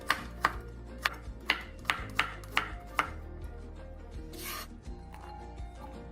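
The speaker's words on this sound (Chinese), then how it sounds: "40克蒜瓣，一样切细。" A knife finely chopping 40 g of garlic cloves on a board, about eight sharp, evenly spaced chops in quick succession, then softer scraping and rubbing strokes.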